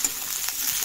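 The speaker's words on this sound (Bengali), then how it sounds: "মোটামুটি পেঁয়াজগুলো ফ্রাই হয়ে গিয়েছে, দেখতেই পাচ্ছ" Onions frying in a pan for a boal fish and onion curry, giving a soft, steady hiss of sizzling oil that runs without a break through the brief moment.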